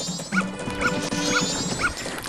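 Four regular, evenly spaced barks from a dog in The Legend of Zelda: Majora's Mask sound close and distinct over background game music.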